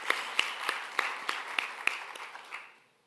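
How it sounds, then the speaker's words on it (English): Audience applause at a live storytelling and music event, a thin scattering of distinct hand claps over a soft broadband wash that tapers off and fades to near silence at the end. "Let's give them another roaring round of applause."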